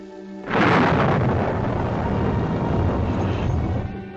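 A deep, rumbling roll of thunder breaks out in a winter storm in the Catskills, swelling suddenly and then grumbling on loud and steady for several seconds.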